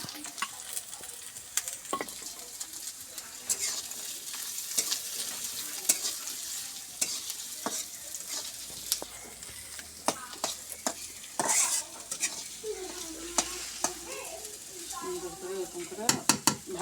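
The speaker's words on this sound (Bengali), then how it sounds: "ভেজে নিব আর বাদামি কালার হবে" Cumin, chopped onion and whole garlic cloves frying in a pan, a soft continuous sizzle with the occasional clink and scrape of stirring, fairly quiet and close throughout.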